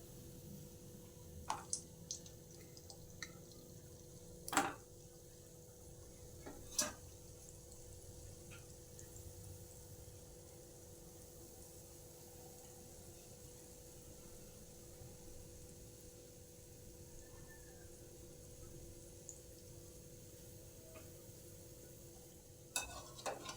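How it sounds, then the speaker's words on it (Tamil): Dough balls fry in oil over a low flame, a faint, steady sizzle running throughout with a few sharp clinks and stirring knocks scattered across it, and no talking. "இப்போ நம்மளோட உருண்டைகளை போட்டு பொரிச்சுக்கலாம்"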